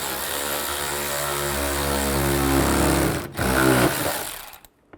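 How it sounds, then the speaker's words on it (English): Headlight screws on a 2013-15 Chevy Cruze are tightened with a T20 socket, giving a close, steady motorized whir that runs about three seconds, breaks briefly, resumes, then cuts off. "Use the T20 socket and tighten them up."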